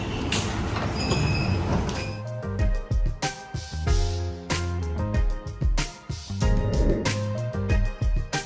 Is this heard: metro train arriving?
yes